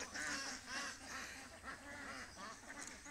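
Ducklings in Zamboanga del Sur give off a steady run of high, close quacks and peeps that overlap one another with no pause and no talking.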